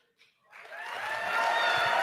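After a brief quiet moment, applause swells up and grows steadily louder, a crowd clapping together until the end.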